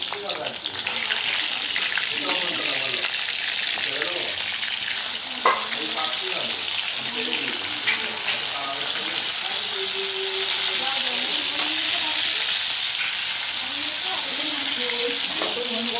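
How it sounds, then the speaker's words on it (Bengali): Large prawns frying in hot oil in a pan, a loud continuous sizzle with stirring clatter, while a person talks over it. "এখন আমি চিংড়ি মাছটা হালকা করে ভেজে নেব তেলটা গরম হচ্ছে"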